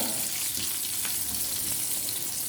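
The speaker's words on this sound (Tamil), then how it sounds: "நல்லெண்ணெயிலேயே வெங்காயம் நல்லா வதங்குறப்போ அது நல்லா இன்னும் கொஞ்சம் டேஸ்ட்டாக கொடுக்கும்" Sliced onions sautéing in sesame oil in a pan for a manathakkali vathal kuzhambu: a continuous, even frying hiss, close and fairly loud, without voices.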